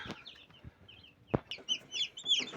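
Day-old chicks newly hatched in an incubator for chicken eggs peep close by, several high thin cheeps in quick succession after a couple of soft knocks.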